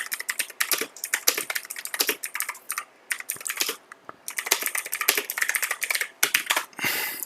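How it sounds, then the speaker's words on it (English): Fast, clattering typing on a noisy computer keyboard, dense bursts of loud close key clicks with short pauses between runs, heard alone. "my keyboard is noisy"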